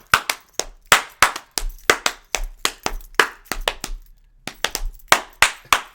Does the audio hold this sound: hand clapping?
yes